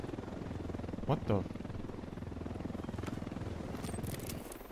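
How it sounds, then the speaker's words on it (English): An enemy Unidad helicopter in the video game Ghost Recon Wildlands makes a faint, rhythmic rotor chop in the distance. A player's short exclamation is heard over it. "There's a Unidad helicopter."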